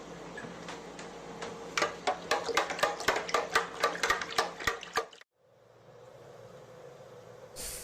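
Lemonade stirred with a spoon in a pitcher, a steady run of sharp ringing clinks against the sides for about five seconds, close and clear, ending abruptly and followed by low background hum.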